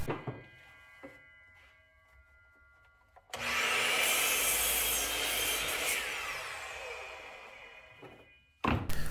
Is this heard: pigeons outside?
no